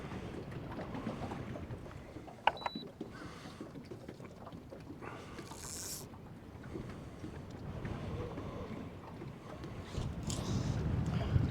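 Wind gusting across open water around a boat deck during a fly-fishing outing, a steady rushing roar with microphone buffeting that swells louder toward the end, no voices.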